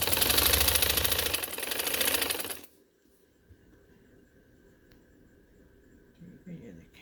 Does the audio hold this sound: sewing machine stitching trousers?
yes